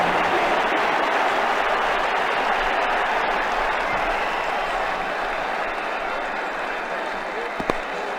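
Cricket crowd at an Ashes-era Australia versus New Zealand Test applauding a well-struck shot: dense, sustained clapping and cheering from a large stadium audience, steady and loud throughout and slowly easing toward the end.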